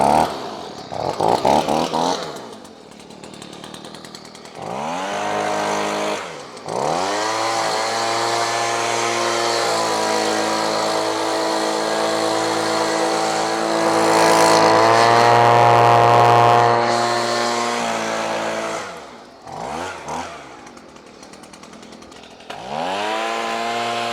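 A gas-powered yard tool engine fires up after a pull start, sputtering briefly before settling into a loud, buzzing run that rises in pitch mid-way, then drops and restarts near the end.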